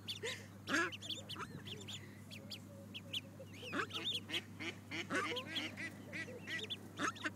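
A mother duck and her ducklings at Cambridge Science Park, with repeated quacks and soft peeps close by in short bursts over a low steady hum, outdoors.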